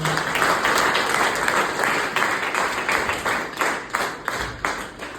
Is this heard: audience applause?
yes